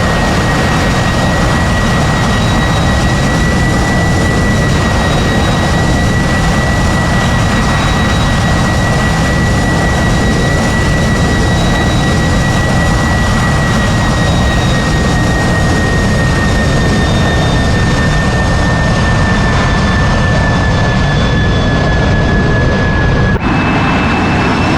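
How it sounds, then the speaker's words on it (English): AV-8B Harrier jet engine in the DCS flight simulator, a loud, continuous roaring whine with a steady high tone held throughout, slightly shifting near the end. "This is the AV8B Harrier."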